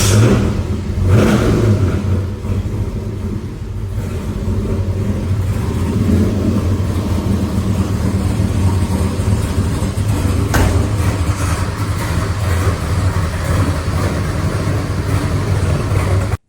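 Classic car engine fitted with Holley Sniper EFI fuel injection cranks, catches and settles into a loud, steady idle with a few blips of revving, close up and without talk.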